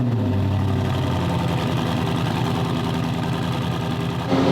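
A Ferrari 488 engine runs with a newly fitted exhaust, a loud, steady, rumbling idle with a slight rev swell, close and continuous before cutting off near the end.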